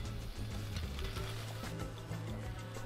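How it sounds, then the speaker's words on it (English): Butterfish roasts over an outdoor fire, giving a faint, close sizzle with soft crackles and pops spread across a few seconds. "You see some sizzling down in the action down there."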